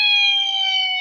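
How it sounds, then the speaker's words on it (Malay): A fire engine siren sounds loud and close as a steady, high, piercing multi-tone wail for one second, with no other sound. "sairan jentera bomba yang kita dengar tu kita boleh kaitkan dengan kebakaran berlaku"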